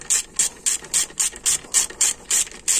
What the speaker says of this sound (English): So we're going to tighten all these snug before we torque it.